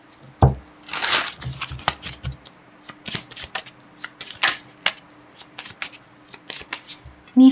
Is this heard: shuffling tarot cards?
yes